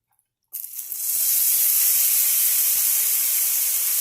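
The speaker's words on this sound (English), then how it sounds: "now I am just mashing it up a little bit more before I toss it into hot" Mashed tofu for a Cajun tofu scramble drops into hot oil and bursts into a loud, steady sizzle that starts abruptly after a short silence and holds its hissing crackle to the end.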